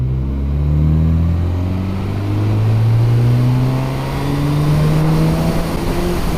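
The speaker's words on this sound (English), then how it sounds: "Put it in fourth gear, get it to 20 miles an hour and basically give it a handful." A 2019 Honda CB1000R motorcycle accelerating hard in fourth gear from 20 mph, its engine note climbing steadily in pitch, loud and close throughout with no talk.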